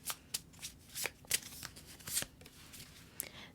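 Oracle cards from a Manifest Your Soulmate deck being shuffled by hand, a run of soft papery riffles and flicks with irregular bursts, close and fairly quiet, no talking.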